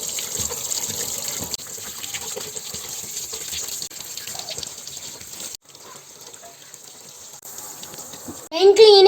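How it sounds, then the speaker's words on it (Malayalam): Water sprayed onto a cleaned bike chain, a steady hissing gush that runs continuously with a few brief breaks, then a voice cuts in at the very end. "ഇനി വെള്ളത്തോണ്ട് അടിക്കാം."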